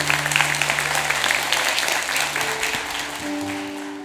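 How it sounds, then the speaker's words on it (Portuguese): Church congregation at a Pentecost vigil claps together in sustained, dense applause that slowly fades, with faint organ or keyboard tones sustained beneath. "Aplauda a palavra de Deus."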